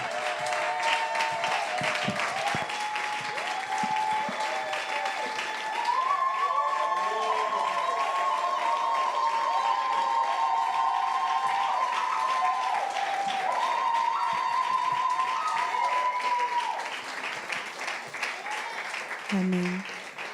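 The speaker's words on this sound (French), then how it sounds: "j'aimerais qu'on acclame encore pour notre maman" Church congregation applauding and cheering for a mother being honoured, a dense sustained roar of clapping with voices and whoops layered over it, fading near the end before a brief spoken word.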